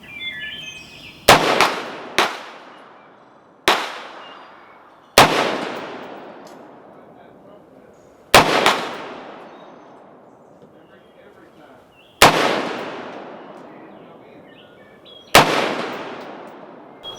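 Seven loud, sharp rifle shots from a Diamondback 6.5 Grendel firing Federal ammunition, spaced a second or more apart outdoors, each followed by a long decaying echo, with no voices.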